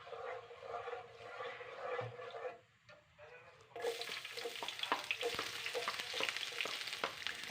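Cooking oil heats in a frying pan with a soft crackling sizzle and occasional light pops; it quiets briefly, then the hiss returns brighter and denser.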